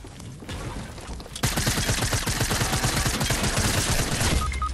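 An egg launcher fires in a multiplayer video game as a dense, rapid string of loud popping shots, starting after a brief quieter stretch and hammering on steadily to the end.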